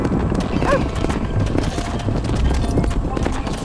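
Horse hooves in the Red Dead Redemption video game, a quick steady clip-clop of a horse moving along, close and loud, with a brief whinny early on.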